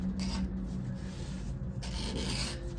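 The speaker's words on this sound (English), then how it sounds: "we're going to go down the whole belt and we're going to bevel that edge" An edge beveler scrapes along the edge of a leather belt in repeated rasping strokes, close and continuous.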